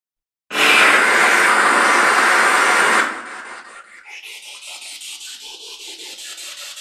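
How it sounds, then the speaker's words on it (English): Spirit box radio sweeping stations in reverse, a loud burst of harsh white-noise static for a few seconds, then quieter rapid choppy pulsing static as the sweep continues. "we'll do a spirit box session in reverse sweep. It'll be very loud."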